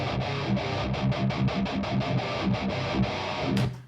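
Distorted electric guitar recorded at home through an amp and speaker cabinet, chugging a rhythmic palm-muted riff with steady repeated hits, close and fairly loud, ending abruptly.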